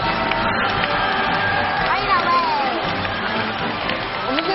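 A TV studio audience gives a steady wash of applause and cheering, dense and continuous, with a host's voice carrying over it.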